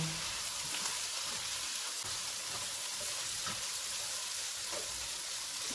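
Turmeric, coriander powder and crushed red chilli roasting in a pan, a continuous soft sizzle and frying crackle with faint stirring, steady and close throughout.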